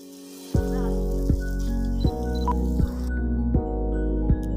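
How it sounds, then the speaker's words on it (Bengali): Potatoes frying in a pan for a home-cooked dish, a steady hot sizzle that jumps in sharp bursts every second or so as pieces are stirred or turned, close and alone. "আলুগুলো দিছম এলে লাল লাল করিয়া ভাল করে ভাজি নেওয়া"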